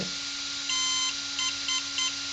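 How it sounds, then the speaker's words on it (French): A BL controller emits a series of short electronic beeps during configuration: one longer beep followed by three quick ones, set against a steady electronic hum. "C'est celui-là, un bip. J'appuie, je reste appuyé."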